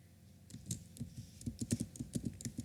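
Fingers type on a computer keyboard while entering text into a spreadsheet, producing a quick, uneven run of soft, close key clicks that grows busier toward the end, with no talking.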